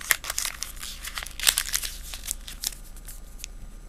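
Paper is folded and crinkled around a small pot-forming base, giving close, irregular crackling and rustling bursts throughout.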